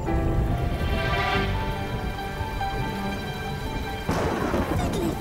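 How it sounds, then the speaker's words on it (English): Steady rain falls in an animated children's show, a continuous dense hiss with a louder burst near the end and no voices. "It's raining!"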